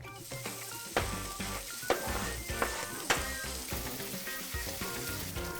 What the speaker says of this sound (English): you can just fry the longer pieces of bacon and then cut them afterwards